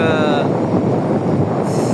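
Strong winter wind on the beach at Dunkirk during surf fishing, a loud, continuous roar that buffets the microphone with no break.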